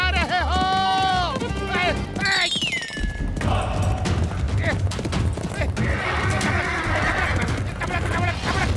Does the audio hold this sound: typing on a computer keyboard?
no